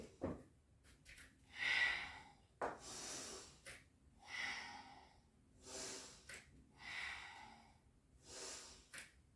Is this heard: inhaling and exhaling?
yes